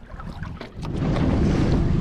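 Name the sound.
wind and choppy water on a lake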